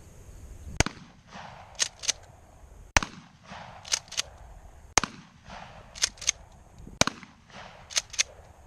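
A .410 shotgun is fired from the hip outdoors, four sharp loud reports spaced about two seconds apart, each followed by a quick pair of clacking action sounds.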